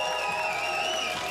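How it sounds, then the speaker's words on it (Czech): At a school graduation ball, applause greets a student as she is introduced. A steady wash of clapping runs underneath sustained, tonal background music throughout the short moment. "Protože o potlesk si říká Michála Schovancová."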